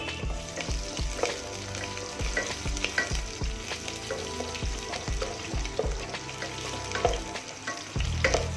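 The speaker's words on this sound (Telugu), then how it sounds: "లవంగం, బిర్యానీ ఆకు వేస్తున్నాను." Onion, chilli, cinnamon, cloves and bay leaf frying in hot oil for a mutton curry, a steady sizzle broken by repeated scraping stirs of a spoon in the pan, close and without talk.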